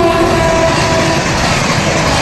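The Saraighat superfast express train rushes past with a loud, continuous roar of wheels and rail noise, dense and unbroken at close range, with a brief tonal note near the start.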